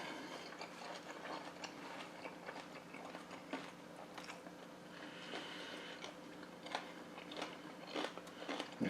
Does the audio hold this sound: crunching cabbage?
yes